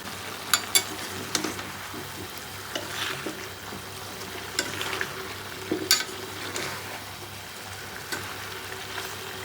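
Potatoes go into jackfruit and pork cooking village style in a pan, with a steady close sizzle, scattered clatters and spatula scrapes as it is stirred, and no talk.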